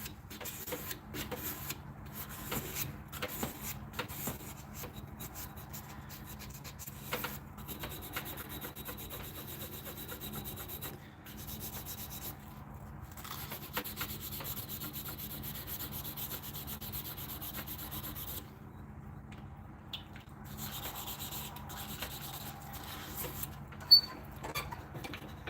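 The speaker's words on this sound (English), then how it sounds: "The worst part about making slingshots, though, is the fucking sanding just sucks so bad." A wooden slingshot being hand-sanded in a workshop: quiet, steady repetitive rubbing and scraping strokes, soft and close, with a few brief pauses.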